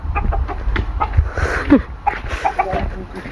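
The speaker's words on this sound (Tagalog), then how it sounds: "Native chicken." Native chickens cluck and squawk close by amid a busy outdoor mix of voices and scattered noises.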